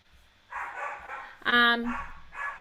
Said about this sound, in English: I can hear the puppies going nuts in the background.